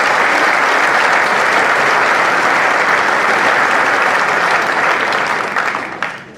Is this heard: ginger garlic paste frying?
no